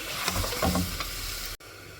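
Raw mango pickle with sugar is stirred and fried in a pan, giving a steady soft sizzle with faint scraping strokes, close and alone.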